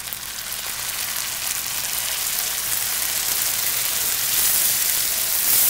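A pan sizzles steadily and loudly as white wine, a Pinot Grigio, is poured in to deglaze while pancetta pasta cooks, the hiss broad and continuous with no voices.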